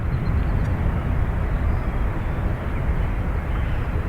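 A Loganair aircraft on its takeoff roll from runway 28 right at Dublin Airport, a loud, steady broadband engine roar that holds evenly for the full stretch with no break.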